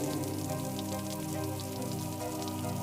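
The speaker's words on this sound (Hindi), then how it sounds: "हल्की हल्की बारिश गिरना शुरू हो गई थी" Light rain patters steadily and evenly throughout, with a sustained tonal drone underneath and no voices.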